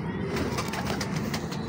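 A pigeon coos softly in a close, low rumbling murmur, with steady background noise and faint repeated pulses over the short stretch.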